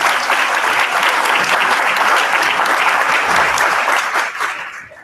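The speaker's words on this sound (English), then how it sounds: "So let's give Martha a round of applause" Audience at a candidacy announcement for First Selectman in Trumbull, Connecticut breaks into loud, dense, sustained applause that fills the room for about four seconds, then fades out toward the end.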